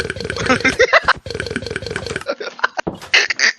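Repeated burping from a video game, a series of short, throaty bursts in quick succession, some choppy and broken, fairly loud and close.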